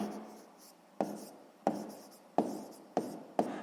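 Pen writing out a math solution to a sixth-grade equation with absolute values: about five quiet, scratchy strokes in a steady rhythm, close up and with no talking.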